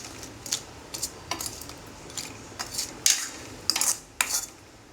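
Jalebis being stirred together in sugar syrup, heard as a series of light metallic clinks and scrapes from a spoon against a pan, spaced irregularly over a low background hiss with no talking.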